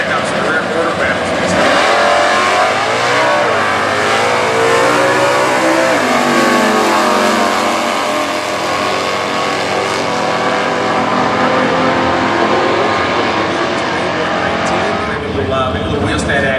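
Stock Eliminator drag race cars launching at the 2015 US Nationals, a loud sustained engine roar with rising and falling revs that fills the whole stretch, with a commentator's voice running beneath.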